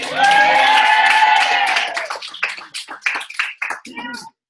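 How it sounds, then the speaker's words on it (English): Workshop audience applauding a health coach: a dense wash of clapping with cheering voices at first, thinning into scattered individual claps before stopping abruptly. "And let's clap it up for health coach Milan."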